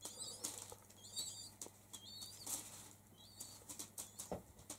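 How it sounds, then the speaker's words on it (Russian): Wild pigeons flap their wings nearby in a sheltered winter coop, giving repeated soft flutters and wingbeat bursts, with faint chirps and cooing between them. "это вот дикие голуби у меня"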